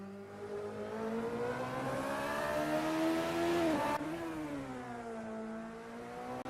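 A Radical race car in a sim racing game drones loudly through turn 10, its engine pitch sagging as it brakes into the corner, then swelling and rising again on the exit, continuous and close.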